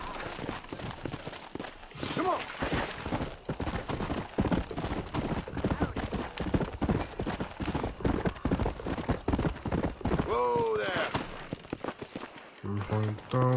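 Horse hooves clip-clop steadily on the ground in Red Dead Redemption, a close rhythmic trotting beat mixed with game ambience and voices talking over it, plus a few sharp sounds near the end.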